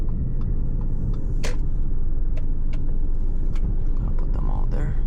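An Audi S6 V10 cruising smoothly, its low steady engine and road rumble filling the cabin from inside, with a few faint clicks and brief rattles over the drone and no speech.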